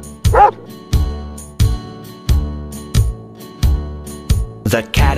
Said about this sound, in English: The dog on the farm goes woof, woof, woof.